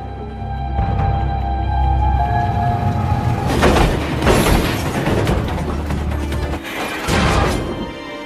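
A train rumbles along the rails with heavy low clatter, rising bursts of crashing metallic noise, and a steady loud drone throughout.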